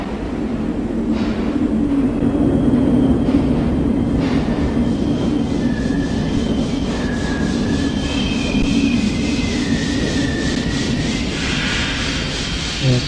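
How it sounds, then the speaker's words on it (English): A long train rolling past during a cutscene in the video game Hellnight, a loud, steady rumble of wheels and cars with high metallic tones whining over it throughout. "Okay, that's a bit of a long train"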